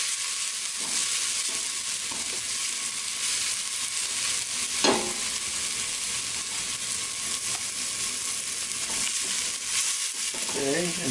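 Onion softening in a pan with steady broadband sizzle throughout, broken by a few brief stirring scrapes and clicks, close and moderately loud with no talk.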